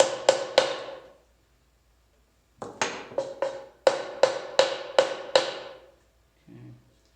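A mallet taps wooden wedges into tenons during a small bench glue-up: three quick sharp knocks, a pause, then about nine more ringing taps at a close, even pace.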